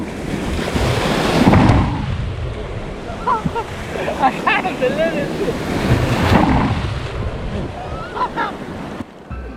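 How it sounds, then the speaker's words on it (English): Heavy surf crashes and rumbles at Cloud 9 surf break, Siargao island, Philippines, with gusty wind buffeting the microphone, while a person speaks briefly over the roar. "The waves too strong over here. It will hit you like a rock."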